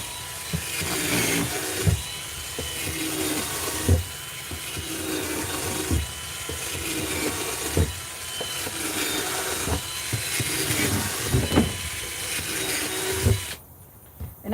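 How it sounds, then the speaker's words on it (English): A power drill whirs in repeated bursts, drilling holes in a trash can, each run punctuated by sharp knocks every couple of seconds, continuing steadily before cutting off near the end. "I'm just drilling tons of holes"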